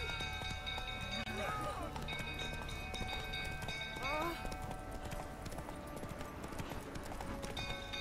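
The horse Roach gallops in The Witcher 3, with continuous rhythmic hoofbeats and a brief whinny under a voice and a game soundscape.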